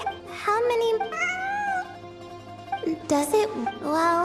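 Repeated meowing from a cat in the Genshin Impact game, several drawn-out cries in quick succession, loud and close over a faint steady low drone.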